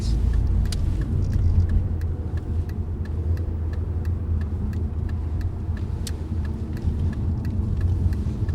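A car drives along steadily, a continuous close engine and road rumble running throughout, with faint regular ticking on top and no talk.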